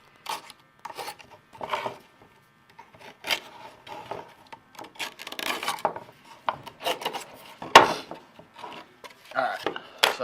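Cured superglue on a fiberglass repair is trimmed with a file in short, irregular rasping strokes, some louder scrapes among softer rubs, with a sharp knock partway through.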